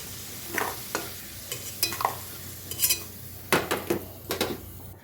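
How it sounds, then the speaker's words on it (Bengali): Potatoes frying in a pan alongside ridge gourd and egg curry preparation, with a spatula scraping and clinking against the pan in repeated bursts over a soft continuous sizzle, close up and without speech. "আলুটা কিন্তু লাল লাল করে ভাজাও হয়ে গেছে। এবার আমি আলুটাকে তুলে নিচ্ছি।"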